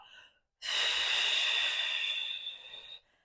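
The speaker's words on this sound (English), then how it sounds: "now like you're breathing through a straw" One long, controlled exhale during a core workout, pushed out as if through a straw, makes a breathy hiss of about two and a half seconds that starts abruptly and stops cleanly.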